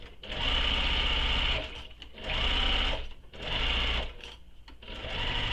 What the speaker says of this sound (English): you'll notice I like to backstitch when I get to a corner here